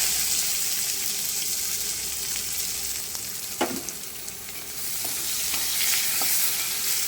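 Chopped onions sizzle loudly in hot oil with cumin seeds for jackfruit and prawn cooking, a steady dense frying hiss with a few sharp clinks and stirring scrapes, and no voices.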